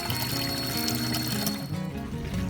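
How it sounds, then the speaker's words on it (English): Water pumped out of a sailboat's onboard tank gushes overboard in a steady, continuous splashing pour, close by, with a low pump hum beneath and no voices. "You see the water from the tank, like being pumped into the sink, is now just being discharged overboard"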